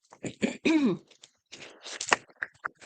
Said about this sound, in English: Let me just clear my throat for a minute.